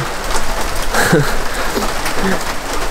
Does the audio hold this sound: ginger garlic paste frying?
no